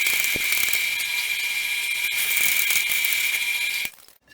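Hand crank lowering a workshop table, giving off a steady, fast ratcheting clatter that runs unbroken for about four seconds before stopping abruptly.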